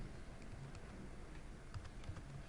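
Quick, light keystrokes patter on a computer keyboard, a soft run of close ticks spread across a couple of seconds with no talking.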